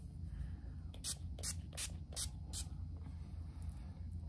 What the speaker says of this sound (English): Now I'm gonna go in with the NYX Dewy Finish Setting Spray.